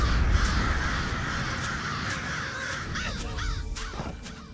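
Several crows caw repeatedly in the Elder Scrolls Online video game, their harsh calls standing out clearly over a steady ambient background.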